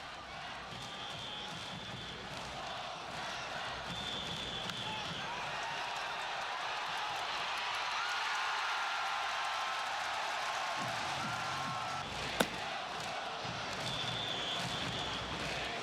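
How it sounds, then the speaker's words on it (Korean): Distant murmur of a large crowd of spectators filling a baseball stadium, a steady broad roar with one sharp crack near the end. "수천 명의 관중이 눈에 불을 켜고 지켜보는 이곳에도"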